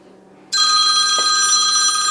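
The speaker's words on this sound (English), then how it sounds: "Your phone's ringing." A telephone rings loudly in a home kitchen during cooking, its steady electronic ring starting abruptly after a quiet moment and continuing without break.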